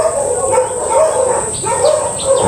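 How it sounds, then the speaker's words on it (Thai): A dog yips and barks in short, close bursts, each followed by a whimpering edge, over a steady high-pitched background tone. "ใช่หมาเห่าทีอ่ะ อย่าเห่าเลยลูกเอ้ย"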